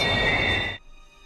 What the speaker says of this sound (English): Sparks fly as the train slams on its brakes.